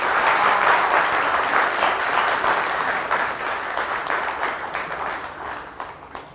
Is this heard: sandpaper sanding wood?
no